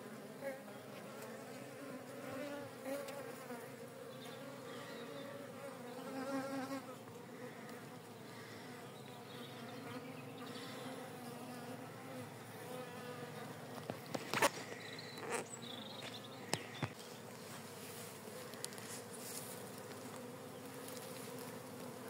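Honeybee colony buzzing steadily at an open hive during the first inspection of the year, a dense continuous drone with a few sharper close passes and light handling noises later on.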